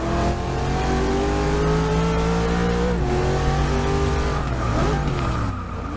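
An old Camaro accelerates hard on the Circuit of the Americas track, its engine note loud and continuous, pitch climbing through the revs with a brief dip near the end as it shifts or lifts.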